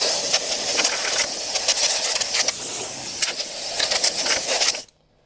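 Compressed air hisses loudly through the charcoal filters from a BMW G80 M3 factory airbox lid in long, steady blasts with brief pulsing bursts, close up, then cuts off abruptly.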